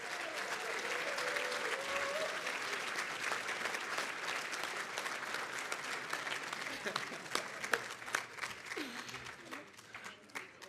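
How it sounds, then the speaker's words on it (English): Guests at a 1975 football celebratory dinner applaud in a steady, full room of clapping that goes on for several seconds, with voices and a few whoops mixed in as it tapers off. "how about a real nice round of applause?"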